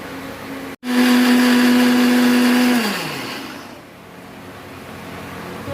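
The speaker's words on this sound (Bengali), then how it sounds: "এবার এইটা মিক্সিতে আমি বেটে নেব" A kitchen mixer grinder starts abruptly and whirs loudly at a steady high pitch while grinding soaked rice for idli, then winds down with a falling whine as the motor slows.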